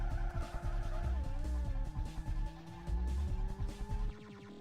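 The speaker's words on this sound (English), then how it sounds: "It just slammed itself right into the wall." A video game car with a revving, shifting engine and squealing tires as it skids and slams into a wall, loud and close, with engine tones rising and falling and a rattling stop near the end.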